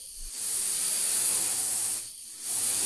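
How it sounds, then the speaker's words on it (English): A vacuum cleaner runs with a steady, loud airy hiss and whine that drops out briefly near the start and again toward the end before resuming. "the chubby orange cat uses the vacuum to clean the floor"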